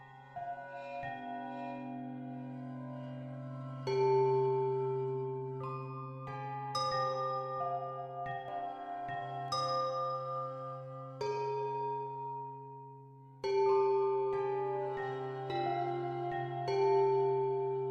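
A melodic tune rung on bells in the indie puzzle game Sisyphus Reborn, the pyramid song: clear tonal chimes struck one after another in a slow, steady melody over a sustained low drone, loud and close with no talking.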